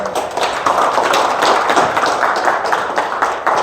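Seated audience at a rice-farming lecture claps to welcome the lecturer, a close, lively burst of many hands with distinct individual claps, sustained at an even level.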